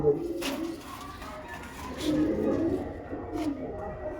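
Pigeons cooing near a loft, soft low throaty coos repeating close by, with a voice briefly heard.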